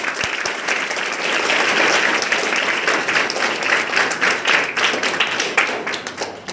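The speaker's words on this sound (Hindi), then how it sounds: "इस बात के लिए हम खुद ताली बजा सकते हैं।" A group at a yoga session for a de-addiction and women's awareness campaign claps hands together in steady, dense applause that stays loud throughout, with no talk over it.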